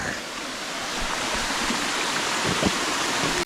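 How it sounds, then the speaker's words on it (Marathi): Hivale waterfall heard up close as a steady, broad rush of falling water, loud and continuous for a few seconds before cutting off abruptly. "हा धबधबाकडे पोचलो आम्ही आता"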